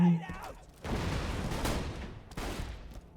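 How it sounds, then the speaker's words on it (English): A grenade explodes in Borderlands 2, a broad loud blast followed by a second burst a moment later, with a voice briefly heard just before. "Grenade out."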